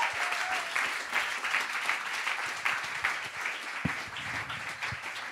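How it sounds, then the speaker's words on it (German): An audience at a festival event applauds warmly, a dense, steady wash of many hands clapping at close to moderate distance that carries on evenly throughout, with a few louder individual claps standing out near the end. "Komm, wir geben doch diesen zwei einen grossen Applaus."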